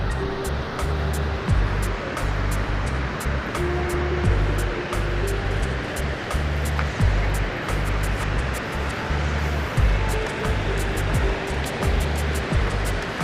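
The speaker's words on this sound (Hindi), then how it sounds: "इस जगह से नीचे जो है पानी बह रहा है।" Water pouring down from a dam on the Wadoor river in Pakistan makes a loud, steady, broadband rushing roar that fills the whole stretch without a break.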